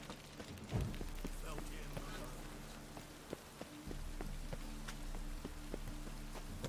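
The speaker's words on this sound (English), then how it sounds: "Rain was coming." Steady rain falling in The Witcher 3 near a city inn, a constant soft hiss throughout with scattered louder drop hits and faint background game sounds.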